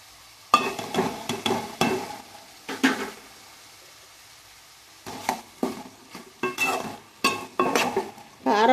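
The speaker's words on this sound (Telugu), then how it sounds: "ఇప్పుడు కూరకి సరిపడా కారం వేస్తున్నానండి." Ridge gourd curry being stirred in a pan as chili powder goes in, with bursts of scraping and clattering spoon strokes separated by quiet pauses, close and moderately loud, no talking.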